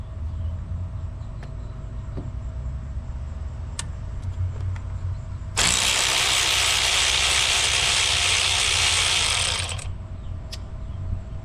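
A SEESII budget cordless ratchet whirs in one loud, steady burst of about four seconds, set against a low background hum with scattered faint clicks before and after.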